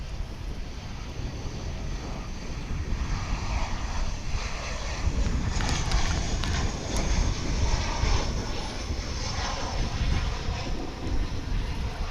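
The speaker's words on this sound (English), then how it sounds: "This flight's coming in from San Luis Potosí in Mexico. An A319." Airbus A319 on arrival at Dallas/Fort Worth International Airport from San Luis Potosí, Mexico: a distant, steady jet roar swells slightly midway, mixed with gusty wind buffeting the microphone.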